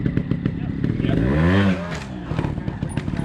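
A trials motorcycle engine under throttle, a rough idle that rises into a short rev and drops back, heard close and moderately loud with crackle and clatter underneath.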